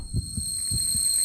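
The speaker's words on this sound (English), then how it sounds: "Heartbeats are never good." Slow heartbeat effect from the horror video game Death Mark: four soft, deep thumps in two pairs over a steady high electronic hum, with no speech.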